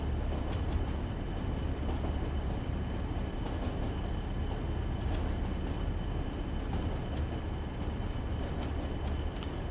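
A train in Train Sim World 4 runs through a tunnel with a steady heavy rumble and faint wheel clatter, continuous and enclosed-sounding, with no voices over it.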